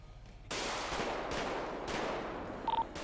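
Locals in a GTA roleplay game open fire in a sustained, fairly loud burst of gunfire that starts abruptly and runs on with a few stronger shots, with small electronic tones mixed in.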